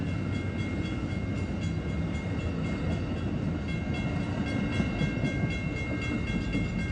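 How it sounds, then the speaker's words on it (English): An Amtrak Capitol Corridor passenger train rolls past the 105th Ave grade crossing in Oakland, California, a steady, loud rumble and rail roar that holds evenly throughout with no voices. "there go that train"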